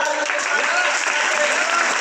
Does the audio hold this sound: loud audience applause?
yes